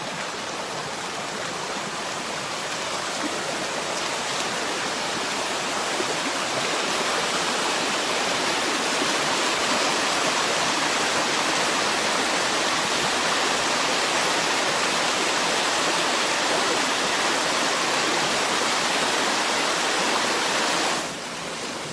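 A waterfall in the woods roars as a steady, dense rush of falling water, loud and close, unbroken for over twenty seconds before easing slightly at the very end.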